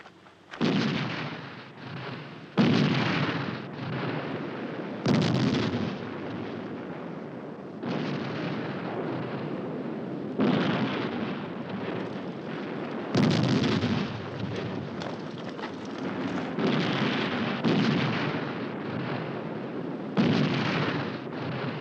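Artillery fire in a 1969 war film about the Battle of El Alamein: heavy booming blasts recur every few seconds over a continuous rumbling battle din, loud and steady throughout.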